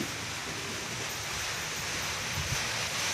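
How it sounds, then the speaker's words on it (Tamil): Strong wind at night as rain begins to fall, a dense, steady rushing roar with no break, close and fairly loud, with no voices. "மழை பெய்ய ஆரம்பிச்சிட்டு காற்று அடிக்குது காற்று பயங்கரமாக அடிக்குது"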